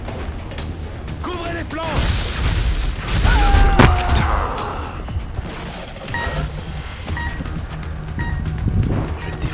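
Gunfire in the squad tactics game XCOM: Enemy Within, scattered shots and a louder crashing burst rising out of game noise, with someone talking throughout.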